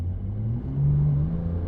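A Brabus-tuned 820 hp Porsche 911 Turbo S set to wet mode pulls away gently, a low, smooth engine rumble with a faint rising whir heard from inside the cabin, steady and moderately quiet.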